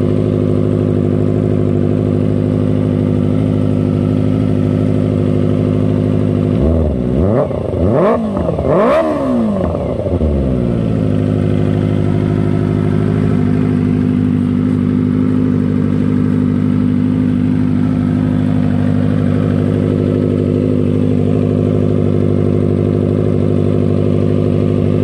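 A Kawasaki ZX25R motorcycle with a LeoVince full-system exhaust idles loudly and steadily nearby. Several sharp, high-pitched throttle blips rise and fall in quick succession, then it settles back to a smooth idle, with no talking.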